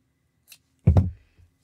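A single close, crisp snip of scissors trimming loose crochet yarn ends, in an otherwise quiet room.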